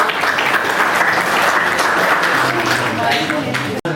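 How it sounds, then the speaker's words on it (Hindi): Audience applause fills a university hall during a Bharat Vikas Parishad quiz competition in Haridwar, a steady dense clapping that holds at full loudness for nearly four seconds before cutting off abruptly. "आप लोग ताली बजाएं अपने को।"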